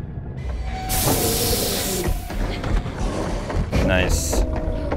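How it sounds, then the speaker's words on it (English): Spray can hissing in The Quarry horror video game, several sharp bursts of hiss cutting in over game sounds, with people talking throughout. "Spray."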